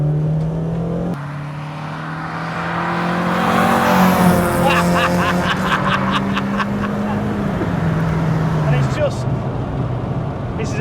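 A Renault 5 fitted with a Clio 172 2-litre 16-valve engine, driving and being dropped into second gear: a steady engine drone rising in pitch as it pulls, with road noise and voices talking over it.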